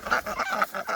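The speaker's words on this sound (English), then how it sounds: "All right, come on out, ducks." Ducks being let out into a new pen, quacking and honking in a quick run of four or five loud, close calls, with no talking.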